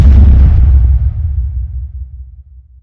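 A loud explosion sound effect: a deep, booming blast that hits at once and then rumbles and fades over about three seconds, with nothing else around it.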